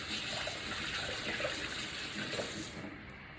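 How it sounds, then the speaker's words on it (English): Hands being washed under a running kitchen tap, a steady close rush of water with splashing that tapers off near the end, no voices. "let me just quickly wash my hands"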